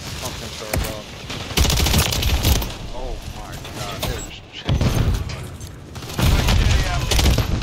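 Repeated bursts of automatic gunfire and booms in a Call of Duty match, loud and near, with people talking excitedly over the shooting throughout.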